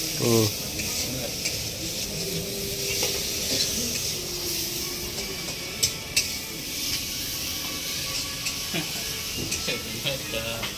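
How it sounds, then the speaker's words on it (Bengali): Fenugreek greens and amudi fish cooking in a police barracks kitchen, a continuous hissing sizzle with occasional stirring scrapes and light utensil knocks, close and moderate in level. "এদিকে ইকবাল ভাই রান্না করছে এদিকে শাক মেথি শাক আর ওদিকে হচ্ছে আমুদি মাছ"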